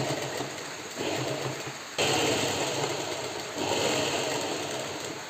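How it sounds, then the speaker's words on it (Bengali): A sewing machine stitching a rolled neckband onto a full-sleeve T-shirt, running in short, steady bursts that stop and restart, with a brief pause near the start; the motor whirs evenly and fairly close, with no voices. "গলার পট্টিটা এমন করে মুড়িয়ে"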